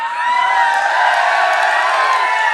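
Dense roar of a large crowd cheering and whooping at a Congress party political rally in Fatehabad, Haryana, a sustained wall of shouting voices heard close and loud, with overlapping yells and no single speaker standing out.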